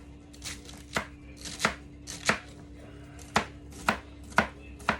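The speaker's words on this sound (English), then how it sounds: "Good to have a good sharp knife. Supposed to have my cutting gloves on, but get all this stuff chopped up." A sharp knife chops pork ingredients on a cutting board for a souse pot, about nine sharp, distinct chops spaced irregularly, close and clear over a faint steady hum.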